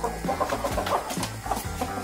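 Jumbo-sized GC chickens in a small home flock cluck in short, repeated bursts over a steady low background hum, with several birds calling close by.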